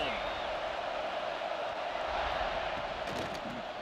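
Steady roar of a stadium crowd in the college football video game NCAA 26 Football, a loud continuous wash of voices filling the whole clip, with a brief rise of cheering near the end.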